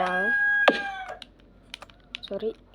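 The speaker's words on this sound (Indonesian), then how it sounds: "itu suara ayam pengen dibakar memang" A rooster in a video game crows once, a short bright call at the start, followed by scattered clicks of computer keyboard typing and a few small clucks in a quiet room.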